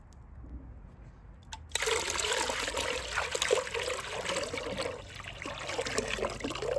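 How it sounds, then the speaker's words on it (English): Water from a wheelbarrow pours into a container with repotted currant cuttings and a pistache sapling. A steady, close gush with splashing starts abruptly after a faint outdoor hush and keeps going at an even volume. "So I'm going to put some new water in here so that it's not so dirty."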